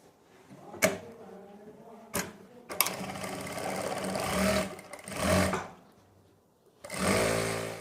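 Sewing machine stitching elastic onto fabric, several bursts of fast whirring stitches separated by pauses, with clicks of the mechanism between runs.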